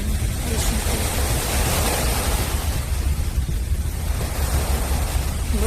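Sea waves wash onto the shore in a steady, loud, broadband surge, with no clear breaks between swells and no voices, heard from nearby on a cold seaside.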